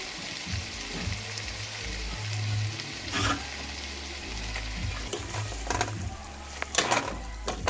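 Shrimp sizzling in a pan for shrimp scampi, a continuous close crackle and spatter with scattered pops and stirring scrapes throughout.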